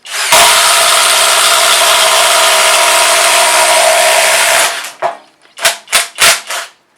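A Kobalt XTR impact driver hammers a fastener into a hole in one loud, continuous rattling burst lasting about four seconds, followed by several short, sharp trigger bursts.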